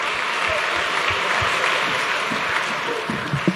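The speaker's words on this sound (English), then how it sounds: "Let's give another round of applause" Audience applause follows a music performance at a school talent show, a steady wash of clapping from a moderately sized crowd heard at medium distance, with a few louder claps standing out near the end.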